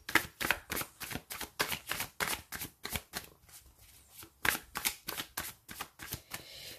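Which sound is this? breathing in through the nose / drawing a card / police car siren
drawing a card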